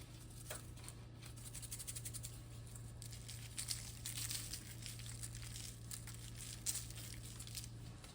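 Aluminum foil crinkles and rustles steadily while a birthday dinner of lobster tail and tomahawk steak is prepared, a close, continuous papery crackle over a low steady hum, with no voices.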